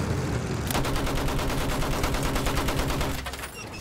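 Rapid gunfire in the Battlefield 1 open beta rattles continuously at close range for about three seconds, a dense automatic burst that then cuts off, leaving a softer rumbling backdrop.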